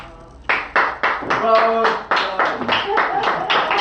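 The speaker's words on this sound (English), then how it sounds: "Now you can clap." Sparse, irregular handclaps from a small audience closing a community radio-style show, a few sharp claps at a time, with a voice speaking briefly over them.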